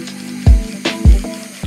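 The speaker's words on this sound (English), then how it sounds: "Then I grabbed a basically dead light pink spray can to paint the exposed half of the" A nearly empty light pink spray paint can sputters against a canvas in short weak bursts, each hiss paired with a low rattling cough, coming in uneven spurts close up with no talking.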